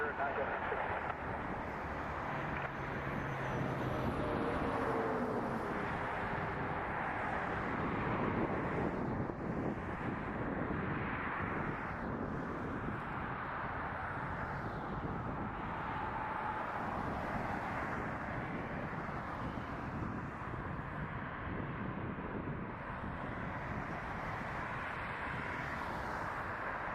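A Boeing 787 Dreamliner airliner passes at Toronto Pearson Airport, a steady, broad jet roar with wind noise that holds throughout, while people talk quietly.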